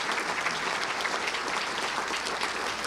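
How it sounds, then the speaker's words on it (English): An audience at a Little Rock Touchdown Club gathering applauds its sponsors with dense, steady clapping that holds at an even level from start to finish. "Let's give a round of applause to all of our wonderful sponsors."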